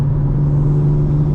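BMW M4 Competition engine, a 2025 model, droning steadily from inside the cabin with a strong low hum, a brief sustained rev with no talking.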